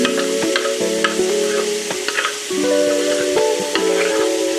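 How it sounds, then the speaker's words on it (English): Peppers and onions hit a hot oiled pan with a loud hiss and crackle, then spatula scrapes and clanks follow as the pan rings with steady tonal hums beneath the close, busy sizzle. "now we are going to toss in carefully our peppers and our onions"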